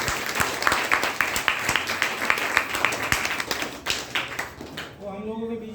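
An audience claps for a leader at a group gathering in Bhagwanpur, a brisk sustained round of hand claps close to the microphone that fades near the end as a voice begins speaking.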